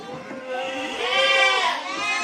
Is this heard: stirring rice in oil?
no